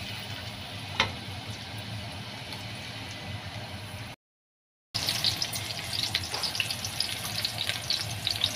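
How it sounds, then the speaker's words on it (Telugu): Chopped onions dropped into hot oil for a chicken curry, frying with a steady close sizzle and bubbling, a brief clatter early on, a short gap of silence, then the sizzling resumes louder with crackles. "ఇప్పుడైతే కట్ చేసి పెట్టుకున్న ఉల్లిపాయలు అయితే వేసేసుకున్నాము."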